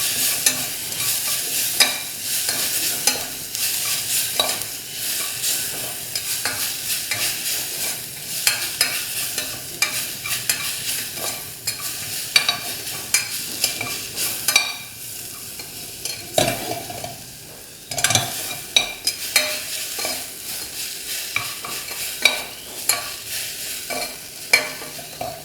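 Tomatoes for a chickpea curry fry in a pan and are stirred, giving a loud sizzle broken up by repeated scraping and clattering strokes, with no talking.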